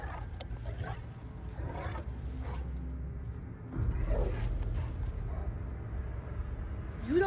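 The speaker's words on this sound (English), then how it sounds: "It sounds like a wolf-like, you know, animal." A wolf-like creature growls in the horror video game The Casting of Frank Stone, with low, rough snarling that swells in the middle and ends on a rising, strained note.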